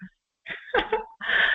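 A single sharp sneeze bursts out mid-clip, close and loud, with a breathy intake before it and a short voiced sound after.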